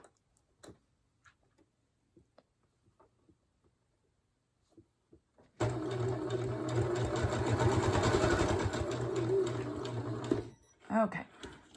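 A sewing machine stitches a three-layer fabric face mask at home, starting after a few quiet clicks and soft handling sounds, then running in a steady close rapid whir for about five seconds before stopping, followed by more light rustling.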